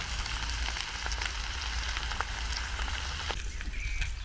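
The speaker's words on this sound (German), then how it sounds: "Und bei mir brutzelt es." Food sizzles in a pan while cooking outdoors beside goulash, a steady crackling fry with occasional sharper pops over a low rumbling background, fairly loud and continuous.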